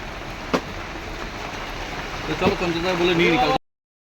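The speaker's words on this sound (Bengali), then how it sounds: "আর এইদিকে দেখো প্রচুর পরিমাণে বৃষ্টি" Heavy rain falls in a steady, dense hiss that fills the whole scene, with faint voices and tonal sounds rising over it near the end before it cuts off.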